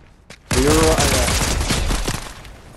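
Video game gunfire in a jungle setting, a sudden loud burst of rapid automatic shots lasting about two seconds and then fading, with a voice faintly underneath.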